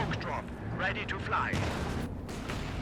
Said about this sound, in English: Actually got a mortar pit here.